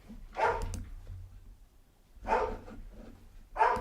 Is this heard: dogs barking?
yes